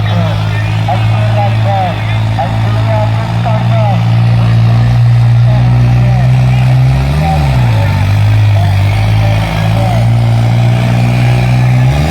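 A loud, close diesel engine drones steadily, its pitch rising briefly with a rev partway through, while voices chatter faintly in the background.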